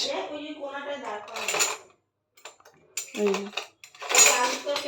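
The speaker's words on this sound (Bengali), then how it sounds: "দাঁড়াও একটা চামচ নিয়ে আসি।" A spoon is fetched from a kitchen, with a few bright metallic cutlery clinks and clatters close by, while a voice speaks over parts of it.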